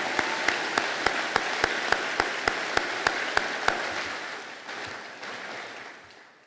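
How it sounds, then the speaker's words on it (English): Applause from a crowd at a technical school commencement ceremony fills the venue, with a steady wash of clapping and a repeated sharp, regular clap near the microphone that stops partway through as the applause fades out. "applause, please."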